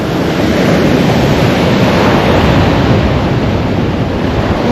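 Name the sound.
waves on a long beach at a lake campground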